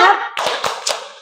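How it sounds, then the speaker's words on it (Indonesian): Children clap the short tepuk semangat rhythm in a classroom, three or four sharp, close hand claps in quick succession after a brief voice. "Tepuk semangat."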